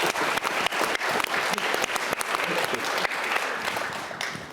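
An audience applauds students at a session on presidential elections and US foreign policy, producing dense, loud clapping that runs without a break from start to finish.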